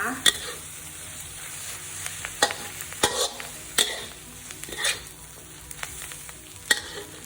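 Vegetables stir-frying in a pan for stir-fried instant noodles, a steady close sizzle broken by repeated sharp scrapes and clatters of a utensil tossing the food, with no talking.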